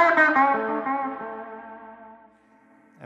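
An electric guitar on its bridge humbucker rings out a chord with brighter, ringing harmonics and lingering echo-like sustain that fades over about three seconds, heard alone.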